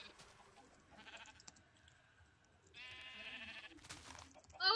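A sheep in a video game bleats, giving faint, wavering calls that come in short bursts and then a stronger, longer bleat near the end.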